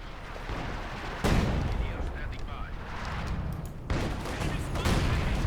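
Artillery barrage from Soviet 76mm guns shelling an enemy base in a Company of Heroes balance mod match, heavy booming impacts and rumbling blasts layered through a dense battle soundscape, with a sharp loud burst near the start and another later.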